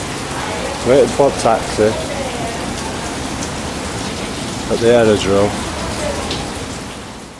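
Heavy rain pours steadily at an aerodrome in Brazil, a loud, even hiss that fills the whole scene while someone speaks briefly over it twice.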